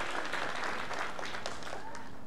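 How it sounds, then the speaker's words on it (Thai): A church audience claps for a speaker in a brief, dense burst of many hands, close and steady for the whole couple of seconds. "ขอเสียงปรบมือให้กับคุณคณิศรนะครับ"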